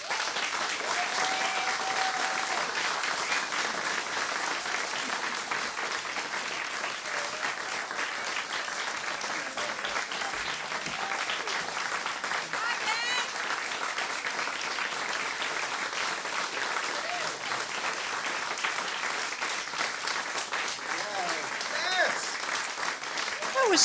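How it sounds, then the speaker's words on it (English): A live audience claps steadily and loudly for more than twenty seconds in a dense, continuous wash of applause, with some crowd noise mixed in. "So polite of you to keep clapping until we got up here."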